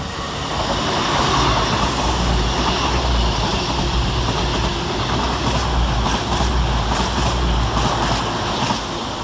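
A passenger train passes through Filton Abbey Wood station, rumbling steadily close by with a deep low drone and light rhythmic clatter over the rails, loud and continuous throughout.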